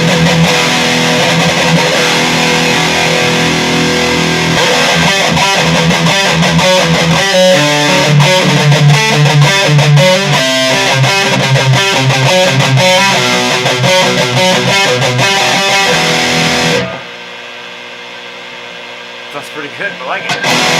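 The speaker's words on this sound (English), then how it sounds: "But the real test is how does it sound with distortion? Some metal riff, man." Seven-string electric guitar chugging a heavily distorted metal riff, loud and dense with fast palm-muted rhythms, then dropping to a quieter held tone near the end.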